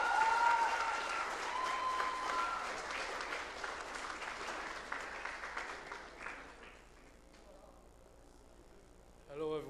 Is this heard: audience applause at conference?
yes